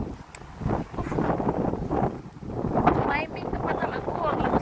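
Strong wind buffets the microphone in loud, uneven roaring gusts, carrying dust outdoors, with a voice speaking intermittently over it.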